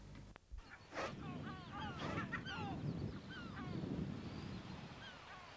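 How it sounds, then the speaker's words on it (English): Eider and shelduck on Inishmurray Island, a nature reserve and bird sanctuary, a flock giving repeated honking and crooning calls at moderate distance over steady wind noise, with a brief bump at the start. "Quite a lot of eider and shelduck."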